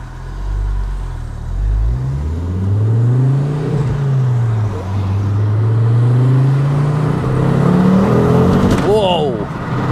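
Ford Focus RS fitted with a Mountune MR375 upgrade pulls hard through the gears on the road, its engine note rising in long sweeping climbs, loud and close. Near the end come sharp shift pops, and a voice briefly exclaims over it.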